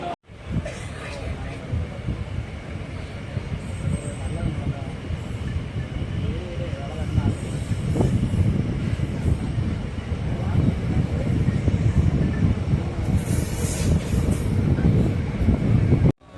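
Inside a Sengottai–Tirunelveli passenger express train on the move, a loud steady rumble and rattle of the carriage runs throughout with rhythmic wheel thumps, while passenger chatter murmurs underneath.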